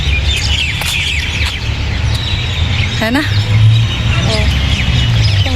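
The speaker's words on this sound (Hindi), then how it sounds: "सिर्फ चिड़िया की आवाज़ है" Birds chirp and tweet in short bursts over steady outdoor rumble in an empty park, with someone speaking briefly nearby.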